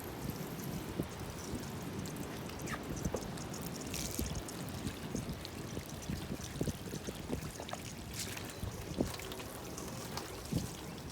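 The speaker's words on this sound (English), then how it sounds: "turn your water on low like this." Garden hose running on low, letting water sheet and trickle over the body of a Mitsubishi Evo 8 RS during a wash, a steady close splashing hiss with small drips and patters throughout.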